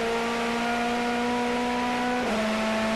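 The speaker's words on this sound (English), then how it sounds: "Martin Tomczyk on board with the number 14 car." Onboard a DTM touring race car, number 14, at Zandvoort in 2011: a loud, sustained engine drone with steady high whine, pitch holding then dropping sharply near the end as the driver shifts or lifts, with no voices.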